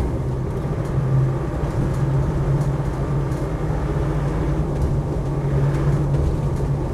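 A Land Rover Defender 90 300tdi heard from inside while driving, a steady low diesel drone and road rumble running throughout without pause or talk.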